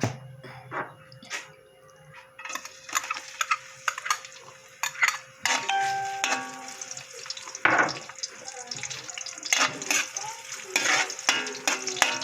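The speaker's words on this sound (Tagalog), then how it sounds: "Gigisa na natin yung ating bawang at saka sibuyas." Garlic and onion sautéing in a pan, soft sizzling with intermittent stirring and utensil scrapes, close and fairly quiet, with a little talk.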